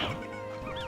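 Hens and a rooster cluck and call in the video game Slime Rancher 2, a brief run of close, honking fowl calls with no talking.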